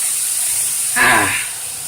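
A burst of sizzling hiss rises briefly over a quiet background, like food frying in a hot pan, then settles back down.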